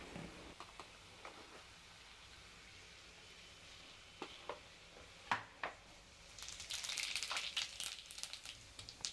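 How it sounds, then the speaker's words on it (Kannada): Mustard seeds, chana dal and cumin fry in hot oil in a pan, a quiet crackle that rises into a steady, brighter sizzle toward the end, with a few sharp pops and taps along the way. "ಸಾಸಿವೆ, ಕಡಲೆಬೇಳೆ 1-2 ಸ್ಪೂನು, ಜೀರಿಗೆ 1 ಸ್ಪೂನ್ ಹಾಕಿ ಚೆನ್ನಾಗಿ ಹುರಿಬೇಕು"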